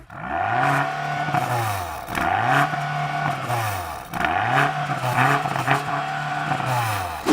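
A BMW M car, the most powerful the maker has built, revs while stationary against a soft limiter set at 4,500 RPM. It gives three loud, close blips, each climbing, holding briefly, then dropping back, with no talking.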